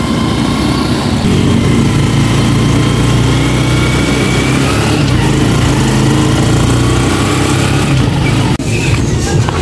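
A tricycle motorcycle engine drones loudly and continuously while riding toward town, a rough buzzing hum with road rumble and a brief dip near the end.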